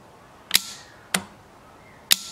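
Automotive relay clicking as a power probe applies positive voltage, three sharp, close clicks spaced irregularly over a quiet background.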